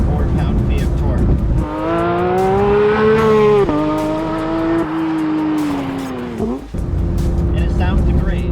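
A naturally aspirated 4-liter flat-six in a Porsche 911 GT3 RS revs hard and loud, its pitch climbing, dipping with a gear change and climbing again toward a 9,000 rpm redline before a sharp cut.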